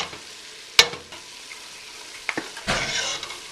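Onions and garlic sauté in a pan for fire-roasted marinara, a steady close sizzle with a sharp utensil clack near the start and a louder burst of stirring toward the end, no voices.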